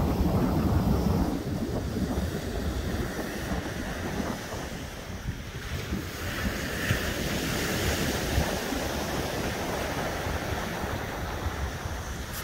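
Ocean surf rolls steadily onto Hutchinson Island beach on an evening breeze, with a continuous wash of waves and wind buffeting the microphone.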